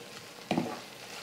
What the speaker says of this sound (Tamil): கொத்தமல்லியை சேர்த்துட்டு சும்மா 1 நிமிஷம் நம்ம வதக்குனா போதும்.